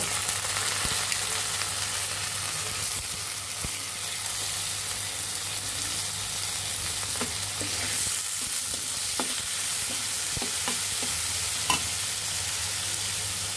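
Washed red lentils stirred into browned onions frying in a pan for black masoor dal bhuna, a steady close sizzle with scraping stirs throughout and no voices.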